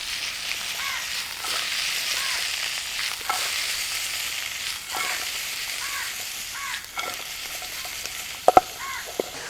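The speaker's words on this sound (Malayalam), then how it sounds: "നന്നായിട്ടൊന്ന് ഇളക്കുന്നത്" Ingredients with tomato are stirred in a frying pan, a steady soft sizzle running throughout with occasional scraping clicks and a couple of sharper knocks near the end, no talk.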